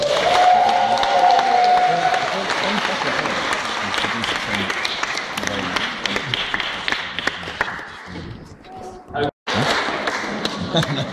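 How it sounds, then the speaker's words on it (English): A church audience in Christchurch, Chester, gives a round of applause during a talk honouring a local church figure, a loud, dense burst of clapping with crowd noise and some voices, briefly dipping near the end before resuming. "Should we give her another round of applause?"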